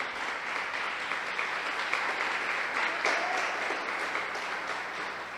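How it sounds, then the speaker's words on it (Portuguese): Applause from a church congregation fills the space, a steady, dense wash of clapping sustained from start to finish at moderate distance. "Aplauda a Jesus."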